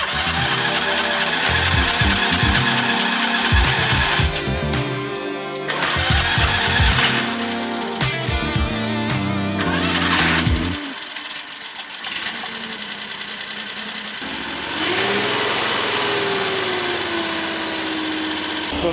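An AGT LRT23 mini skid steer with a Rato R740 engine being cranked repeatedly by its starter in several whirring bursts, then catching and running with a steady close idle, no talk.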